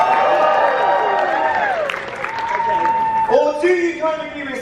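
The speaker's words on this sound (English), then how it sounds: "Give me a cheer if you agree with that" A live audience at a summit debate on short versus long video, a crowd of voices swelling and cheering together while a bright sustained tone sits over the noise.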